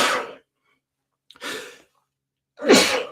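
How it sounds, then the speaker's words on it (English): Three breathy bursts from one person, the last strongest, form a close sneeze with a gasping lead-in, separated by short silences. "I'm about to sneeze too"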